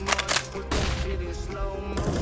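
A flashbang grenade in Counter-Strike: Global Offensive, a loud burst at the start followed by a sustained ringing, bright hiss that trails on after the bang.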